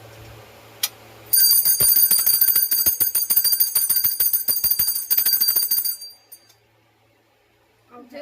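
A small hand bell rings continuously during a home puja offering for Janmashtami, a bright, loud, shimmering peal lasting several seconds close by before stopping abruptly, followed by near silence.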